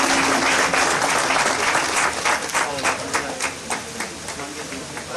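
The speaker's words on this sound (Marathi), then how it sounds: "सरांनी जोरदार टाळ्या वाजवा" Audience at a school SSC batch 2008 get-together reunion program bursts into sustained, dense applause, a steady wash of many hands clapping that thins slightly toward the end.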